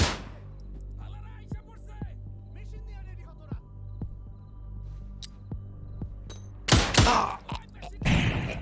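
FN57 pistol gunfire in the video game Zero Hour: a run of sharp, evenly spaced shots over a low hum, then a few louder, fuller bursts near the end.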